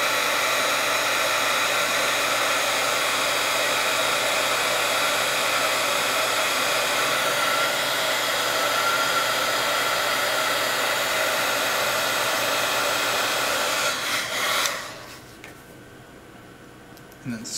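A heat gun blows a steady, loud hiss of hot air while shrinking heat shrink tubing over a filament, running continuously before cutting off near the end; a voice is heard briefly.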